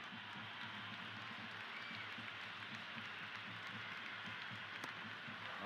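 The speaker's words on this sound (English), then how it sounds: "The crowd is electric right now." Steady crowd roar and applause in a Cricket 26 video game T20 match between India and New Zealand, a dense continuous wash of cheering that holds evenly throughout.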